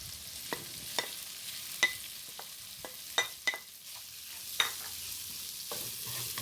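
Prawns fry in a pan for Filipino seafood bihon noodles, a faint, quiet sizzle broken by scattered sharp clicks and scrapes of stirring at irregular intervals.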